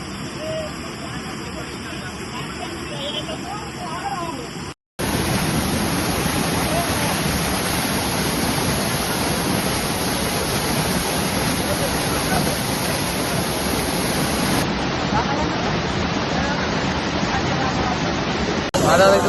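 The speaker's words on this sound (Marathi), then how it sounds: "आवाज प्रचंड येतो धबधब्याचा" A waterfall roars with a steady, loud broadband rush that fills the whole stretch, with a brief break near the start.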